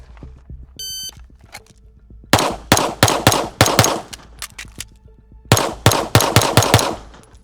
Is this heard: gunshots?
yes